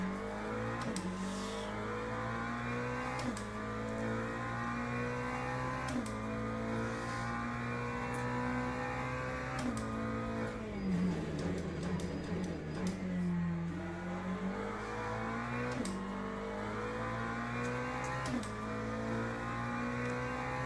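A racing video game car engine drones steadily with repeated gear-change revs and rising pitch sweeps, a busier burst of revving near the middle, playing continuously at moderate level with no talk.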